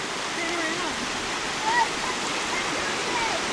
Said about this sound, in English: And here's the little mini boring waterfall.